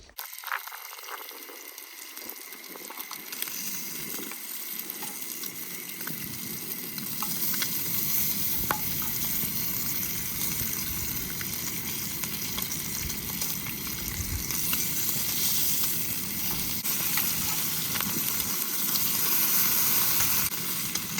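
Food sizzles and fries in a pan on a camp stove during solo car camping, a steady hissing crackle that starts faintly and builds into a continuous, moderately loud sizzle with occasional pops.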